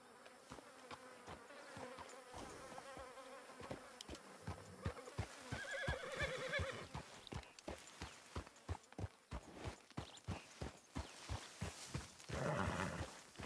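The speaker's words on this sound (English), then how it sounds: "No, horse. No. Get over there." Horse hooves clip-clopping in a steady, fairly close rhythm in Red Dead Redemption 2, with buzzing insects and a brief whinny-like burst, no talking.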